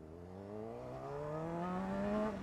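A 600cc motorcycle accelerates, its engine note rising steadily in pitch through the gear, then briefly dropping as it shifts; fairly faint and distant-sounding, with no speech.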